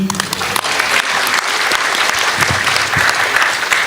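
A seated audience at a Spiritist gathering breaks into loud, sustained applause, many hands clapping densely and steadily at close range, with a voice briefly audible at the start.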